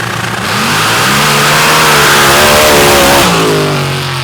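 A turbocharged 572 big block Chevrolet drag racing car in a quick class at a drag strip accelerates hard, its loud engine note climbing steadily through a sustained run, then a brief shift before the roar continues.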